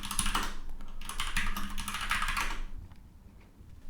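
Commands typed on a computer keyboard in rapid bursts of close, clicky keystrokes that stop abruptly near the end, leaving a quiet room.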